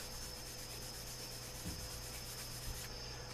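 A leather pouch flap, its finish not yet fully dry, is buffed by hand, giving a faint, steady soft rubbing over a quiet background hiss.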